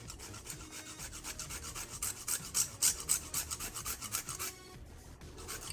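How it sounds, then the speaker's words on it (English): Nutmeg is rasped over a grater in quick, rhythmic scraping strokes, close and crisp, for Jamaican cornmeal porridge, pausing briefly near the end. "Grate about a quarter nutmeg in there."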